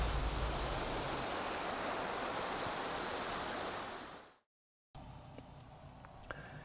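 The Cabano river flows under a bridge, a loud, steady broadband rush of water that fades out, followed by quieter outdoor ambience.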